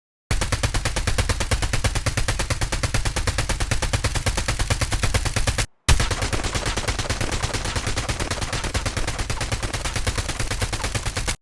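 Sustained automatic gunfire from hipfire in Call of Duty Mobile, a rapid, even stream of loud close shots in two long bursts split by a brief gap.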